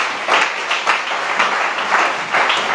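A church congregation applauds in a steady, full wash of clapping that swells and dips in waves, close and loud, with no voices over it.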